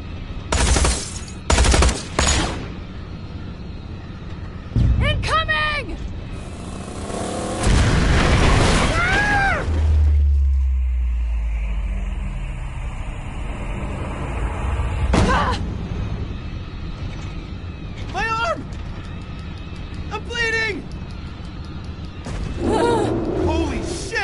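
Gunfire and explosions in the video game Tales from the Borderlands, with bursts of shots, deep booms and a heavy low rumble, heard mixed under loud, excited voices and character dialogue.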